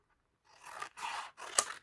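Scissors cut through a flap of a paper or card gift box in three short, close snipping strokes, each a crisp rasping slice with brief pauses between, fairly quiet and alone.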